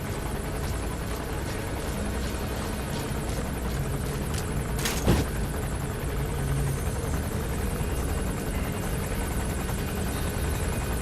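Helicopter flying in the game Metal Gear Solid V: The Phantom Pain, a steady, loud rotor drone with constant chopping that holds throughout, broken by one brief sharp burst midway.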